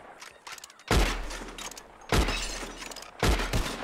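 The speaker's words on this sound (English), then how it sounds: "Who can shoot the most bottles? Just draw your gun and aim when you're ready" Three revolver gunshots shattering bottles in Red Dead Redemption 2, each a sharp crack with a booming low end and scattered breaking glass, spaced about a second apart.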